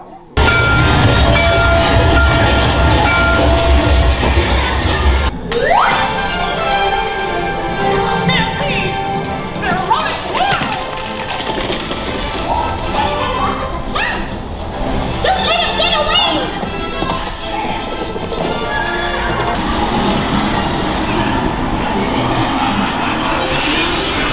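Disney World train ride sounds with rolling rumble and squealing wheels, a brief horn-like tone, mixed with music and busy background voices.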